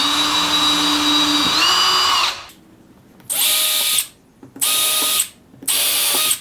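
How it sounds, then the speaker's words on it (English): A power drill bores holes in a circle-cutting jig base plate, with one long loud whine that winds down, then three short close bursts separated by brief pauses. "What I'm going to do now is drill holes to mount the base plate to the jig."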